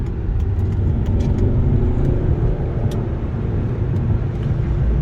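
A 2011 Volvo C30 R-Design with a manual gearbox accelerates in second gear on a highway, its low engine drone blending with steady road and tire rumble from inside the cabin, exhaust note subdued.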